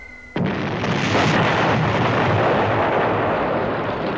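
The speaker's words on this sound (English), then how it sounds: "She lines up and drops her bomb load." Bomb explosions from B-17 bombs striking a target in a board-game soundtrack: a sudden loud blast after a short quiet tone, then a sustained, dense rumbling roar that lingers for several seconds.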